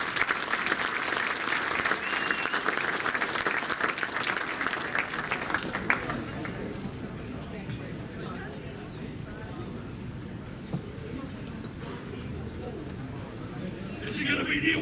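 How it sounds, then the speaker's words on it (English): An audience at an archbishop's charity fundraising dinner applauds loudly for about six seconds, then the clapping fades into room chatter and voices. "give Carmen a round of applause"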